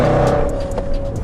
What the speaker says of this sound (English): the Milltek exhaust makes a stupid amount of noise